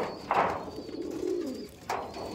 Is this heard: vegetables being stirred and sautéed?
no